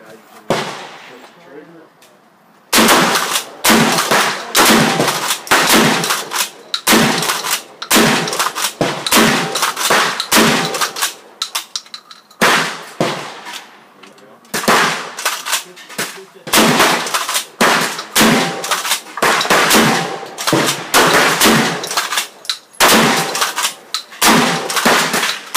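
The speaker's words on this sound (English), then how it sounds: "I'm going to go ahead and doing some consistent shooting on this KSG. Down ranges and boxes here." A Kel-Tec KSG shotgun loaded with 3 3/4 inch shells fires round after round at boxes downrange, loud sharp blasts in quick uneven bursts with brief pauses between strings.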